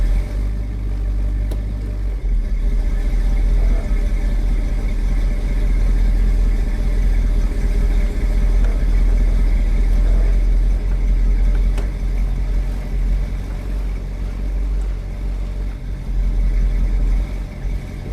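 The engine of a 1965 Chevy Nova wagon settles into a steady, deep idle, a loud low rumble held without revving and with no voices over it.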